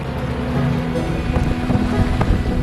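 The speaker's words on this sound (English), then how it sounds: "Right now we're out on the Gulf sailing, just finding the wind and out for a relaxing afternoon sail." Steady wind rushes past a sailboat out on the Gulf of Mexico off Florida, a continuous broadband roar with low hull and water rumble beneath, no voices.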